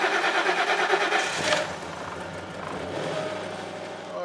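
A Ford Crown Victoria with a 4.6 V8, left sitting unused for a long time, cranks with a loud rapid starter whir for about a second and a half, then settles into a steady engine run.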